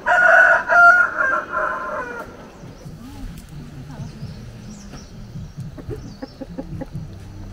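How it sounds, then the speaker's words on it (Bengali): Pet roosters on a hill farm near Darjeeling crow loudly and close at dawn, one long crow opening, followed by scattered clucks and softer bird calls. "রাজীবদার পোষা মোরগরা ভোরবেলায় ঘুম ভাঙানোর দায়িত্ব নিজে থেকেই নিয়ে নেবে।"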